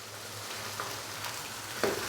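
Chicken frying in a pan with ginger garlic paste, a steady low sizzle with faint stirring scrapes, close and fairly quiet, no voices.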